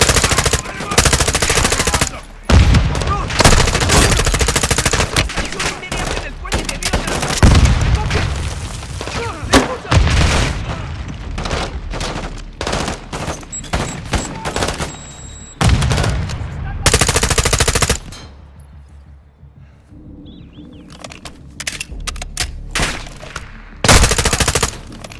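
Bursts of automatic rifle fire and heavy booms from the video game Call of Duty: Modern Warfare II come in loud, rapid volleys separated by short lulls.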